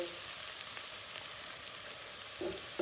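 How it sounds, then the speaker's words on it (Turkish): Peppers sauté in a pan with a dense, continuous sizzle and crackle, with a couple of stirring scrapes near the end. "Karıştıra karıştıra biberimizi de bir dakika kadar kavurduk."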